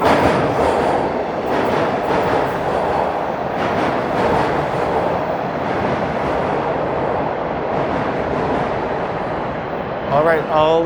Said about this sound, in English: Here comes the northbound train, heading up to Vaughan.